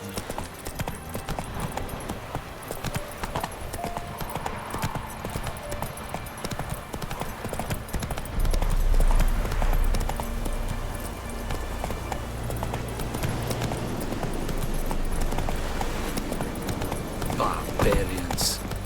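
Galloping hooves clip-clop in a fast, steady rhythm in The Witcher 3 video game, running beneath a voice and game music for most of the stretch.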